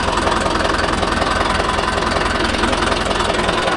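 A Mahindra Yuvo Tech 585 4WD tractor engine labours loudly and close up while pulling a nine-tine cultivator on farmland, with a steady rhythmic diesel knock and vibration throughout.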